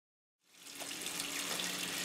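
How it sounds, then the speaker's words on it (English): Tap water suddenly turns on and runs steadily into a sink while dyed t-shirts are rinsed, a continuous close hiss of flowing water with no voices. "I'm going to go ahead and rinse this and then wash this right now"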